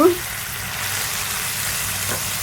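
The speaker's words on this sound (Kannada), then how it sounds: "ಬಾಂಡಿಗೆ ಹಾಕಿ ರುಬ್ಕೊಂಡಿರೋ ಮಸಾಲೆ ಪುಡಿನೂ ಸೇರಿಸಿ ಚೆನ್ನಾಗಿ ಮಿಕ್ಸ್ ಮಾಡಿಕೊಂಡು ಸಣ್ಣ ಉರಿಲಿಟ್ಟು" Boiled chickpea usli with ground masala powder fries over a low flame in a pan, giving a steady, fairly loud sizzle that follows a brief clatter at the start.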